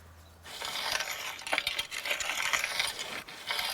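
Seeds broadcast by hand over winter garden soil for cut flowers, a dry pattering scatter of small grains landing in irregular bursts, close and fairly loud, with no talking.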